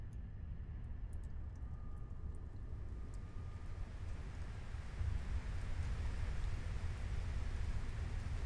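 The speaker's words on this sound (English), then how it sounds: "Raining." Steady rain in the video game Final Fantasy XVI makes a dense, even wash of noise throughout, growing slightly heavier toward the end, with no talking.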